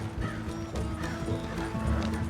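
Horses' hooves clop steadily under a rolling wagon in Red Dead Redemption II, with a rhythmic beat and a low rumble, plus faint background tones.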